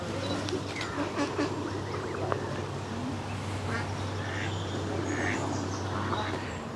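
Ducks and Canada geese on the Par Canal in Cornwall quack and call intermittently, a mix of near and distant honks over a low steady hum, with faint voices in the background.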